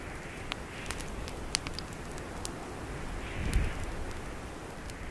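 A campfire burns with faint, scattered crackles and pops over a steady low rumble of flames, the snaps sounding irregular and fairly close.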